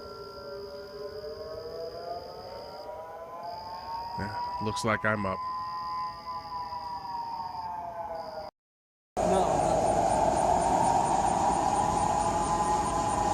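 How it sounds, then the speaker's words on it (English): A civil defense tornado siren wails in a steady rising and falling tone near a plant, running loud through most of the recording with a brief dropout, while a person speaks briefly over it. "It sounds like a tornado alarm."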